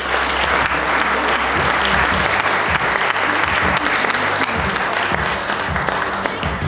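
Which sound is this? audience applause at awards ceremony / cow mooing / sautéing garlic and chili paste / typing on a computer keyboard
audience applause at awards ceremony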